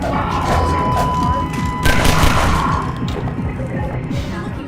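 Explosions during Half-Life 2 gameplay: a run of heavy booms and crashing thuds, with one louder blast around the middle and rumbling debris trailing off afterward.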